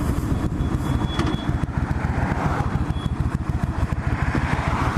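A 1996 Suzuki VS1400 Intruder cruiser motorcycle being ridden, its engine rumbling steadily and close with a pulsing low throb, alone and without talk throughout.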